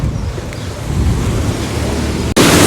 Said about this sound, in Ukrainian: Сьогодні вітер з моря.